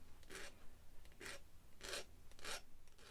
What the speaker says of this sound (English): making sure to take off any of the sharp edges as I file